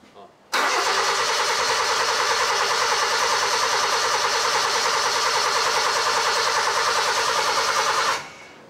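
A D16 turbo car engine fires up sharply and runs at a loud, steady rumble for several seconds, close to the listener, then cuts off abruptly.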